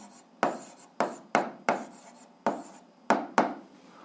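Chalk or marker strokes on a board while an equation is written out, a series of about seven short scraping bursts in an irregular rhythm, close and clear with no talk.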